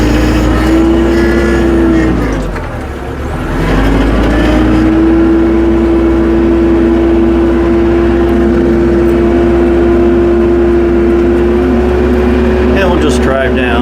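A tractor fitted with pewag Doppelspur snow chains rolls down a snowy driveway, its engine droning steadily and loudly at close range with a brief dip in the middle, and no talk over it.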